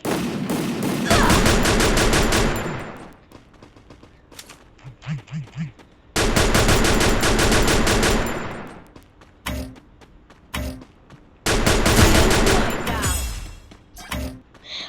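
Gunfire in the mobile shooter Free Fire rings out in loud, rapid bursts of automatic shots separated by short pauses, with a few single cracks between the volleys.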